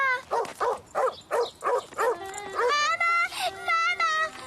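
A dog barks six times in a quick, steady rhythm, loud and close, then breaks into higher, drawn-out yelping whines.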